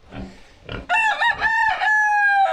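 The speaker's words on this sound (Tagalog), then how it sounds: "Yun yung mga chicken natin" A farm rooster crows loud and close, one long drawn-out call after a few soft clucks from other chickens sheltering nearby.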